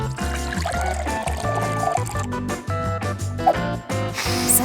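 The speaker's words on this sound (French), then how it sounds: "Il ne me reste plus qu'à ajouter de l'eau bouillante." Boiling water poured into a glass holding chocolate pieces, a steady liquid pour that runs under louder background music throughout.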